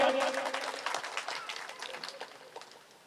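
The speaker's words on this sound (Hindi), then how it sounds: "ताको जोरदार ताली हो जाओ" A crowd applauds the chief guest, a human rights organisation's Odisha president, at an Independence Day welfare foundation gathering. The dense clapping starts loud and gradually fades away.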